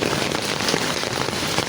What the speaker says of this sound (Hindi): अब बारिश के साथ सारे ओले बाहर चले गए हैं